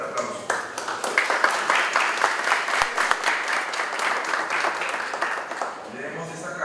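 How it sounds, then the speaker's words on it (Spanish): Conference audience in a courtroom-law lecture setting gives a loud, sustained round of applause to welcome the speaker; the dense clapping swells, holds, then tapers, with a voice briefly audible near the end. "destacado expositor Luis Ishimeza, a quien recibimos con un fuerte aplauso."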